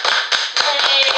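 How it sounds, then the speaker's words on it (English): A few sharp, close hand claps ring out in a quick, uneven series, sounding bright and snappy with talk mixed in. "Oh, clap."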